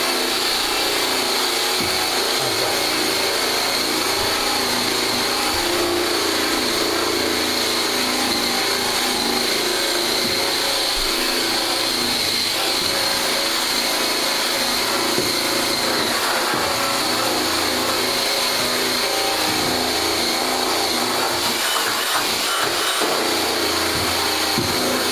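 A spinning buffing wheel runs while wax is pressed onto it to polish wood, giving a loud, steady motorized whir and hiss that holds without a break.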